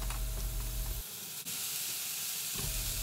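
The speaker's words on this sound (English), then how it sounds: "Now I'm going to put the halved one in the pan first, flat side down" Halved Brussels sprouts sizzle flat side down in a hot pan, a steady close hiss with a brief dip partway through.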